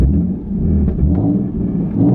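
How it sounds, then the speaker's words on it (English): Nissan 370Z with a Motordyne exhaust heard from inside the cabin, a loud low droning engine rumble that swells and eases briefly as it revs. "So now I'm gonna go ahead and rev it. You'll see what RPMs I go up to and what it sounds like from inside."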